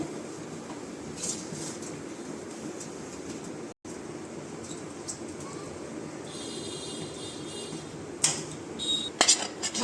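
Metal clattering as ghee is spread around a steel thal for making semolina barfi, with light scraping through the middle and sharper clinks and rattles near the end, close and moderately loud, no talking.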